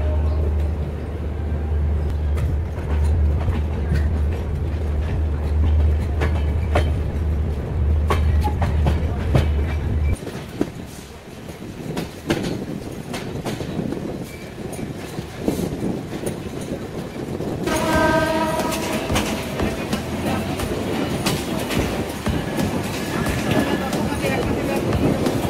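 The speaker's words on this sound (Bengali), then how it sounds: "ট্রেন ছেড়ে দিয়েছে কমলাপুর রেলওয়ে স্টেশন থেকে।" An Ekota Express intercity train departing Kamalapur railway station in Dhaka on its run to Panchagarh rolls along with a continuous loud rumble and rhythmic clickety-clack of the wheels, the tone shifting partway through as the carriage noise changes.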